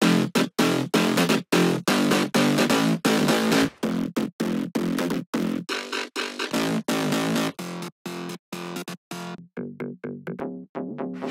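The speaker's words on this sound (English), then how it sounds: "Add a bunch of growl basses." Layered growl basses in a future house track chop in a fast, steady rhythm of short gritty bursts. Dense and loud, they thin out toward the end into sparser hits, with no talking.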